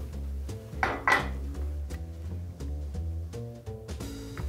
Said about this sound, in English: We're just gonna spoon a little bit of that lovely sauce in the bottom.